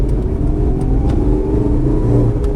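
Inside a 2022 Changan Karvaan MPV on the move, a steady, fairly loud engine drone and road rumble fill the cabin, with a low hum and no talking.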